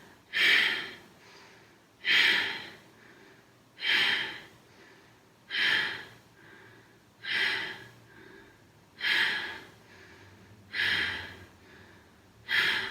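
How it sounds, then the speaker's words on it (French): Short, intense breathing exercise during a yoga session, with sharp forceful exhalations repeated at a steady rhythm about every two seconds, close and clear with no talk. "Vous adoptez une respiration courte et intense, comme ceci."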